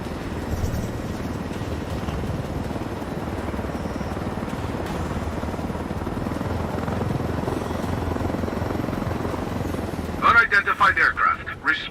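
Helicopter flying in a game, a loud continuous rotor drone filling the scene, with voices talking over it and brief radio-like chatter near the end.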